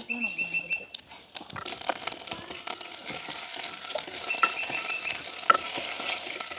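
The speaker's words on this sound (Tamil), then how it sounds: "நாங்கள் தாளிக்கிறதுக்காக கொஞ்சம் தேங்காய் எண்ணெயாக விடுவோம்" Fennel, mustard and fenugreek seeds sputter and crackle in hot coconut oil in a pan, a busy, close sizzle with sharp pops running steadily throughout, with no talking.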